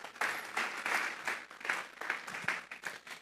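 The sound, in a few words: congregation applauding in church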